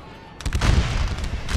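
Musket volleys from Civil War infantry, the 11th Mississippi reserve units, in a North & South American Civil War mod battle: a ragged burst of overlapping shots starts after a quiet moment and keeps crackling loudly over a low rumble.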